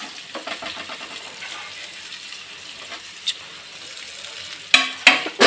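Chopped vegetables sauté in a pan for jowar noodles. A soft, steady sizzle runs under intermittent stirring scrapes, and a few louder clatters of the pan or utensils come near the end.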